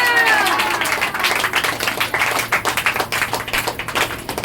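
A church congregation claps together in a burst of loud, dense, close applause that keeps going in quick uneven beats, with no talking over it.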